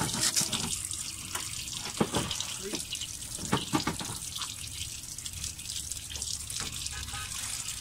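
Water gushing and splashing steadily from a drained Mitsubishi Lancer radiator during a coolant change, a continuous hissing pour with faint voices in the background.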